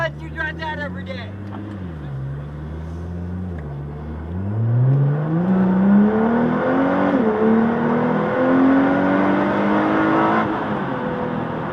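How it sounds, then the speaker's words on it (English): A Nissan GT-R sports car drives and revs, its engine note dropping then climbing steadily in pitch as it accelerates, loud and sustained for several seconds, with people talking briefly at the start. "Here's my GTR coming back over there."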